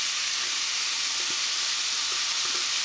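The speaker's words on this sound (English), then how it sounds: "we're just going to let all of this saute" Vegetables for a marinara pasta sauce sautéing in a pan, an even, close hissing sizzle with a few faint stirring taps.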